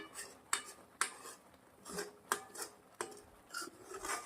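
A spatula scrapes milk cake mixture off the sides of a pan, giving sharp metallic clinks and scrapes at irregular intervals about every half second, fairly faint with room noise between strokes.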